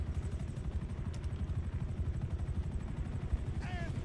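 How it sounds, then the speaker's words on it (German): A helicopter in GTA Online chops steadily with a loud, low, rhythmic rotor beat throughout. A brief bird-like chirp cuts through near the end. "So, der Hubschrauber oben."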